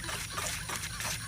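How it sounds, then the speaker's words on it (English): Water drains from a pool backflow valve as a soft, steady trickle and splash in short uneven pulses, heard close and faint with no talking. "So it looks like it might be draining the water down a little bit here."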